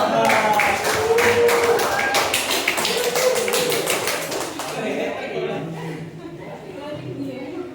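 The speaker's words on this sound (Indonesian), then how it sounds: "Tepuk tangan dong" A class of junior high school students claps in a quick burst of distinct, fairly close hand claps that dies away after a few seconds, followed by quieter murmuring.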